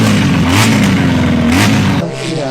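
A racing motorcycle engine roars loudly and close during a French championship race, holding a high revving note before it drops and fades.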